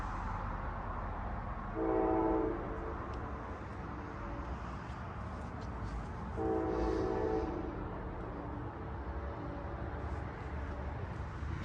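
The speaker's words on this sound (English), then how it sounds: "A horn in the distance told me that the Crescent was here, and with it, Amtrak locomotive number 160, the Phase 3 Heritage Unit." Distant horn of Amtrak's Crescent, led by locomotive 160, the Phase 3 Heritage Unit, at night in Greenville, South Carolina: two separate horn blasts, the second longer, faint over a steady low rumble.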